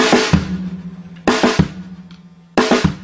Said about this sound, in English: just take a right and a left on the snare and then a strike on the bass